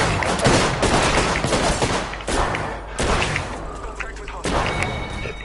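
Rapid gunfire bursts in the video game Apex Legends, loud and dense with booming shots overlapping for most of the stretch, briefly easing before resuming.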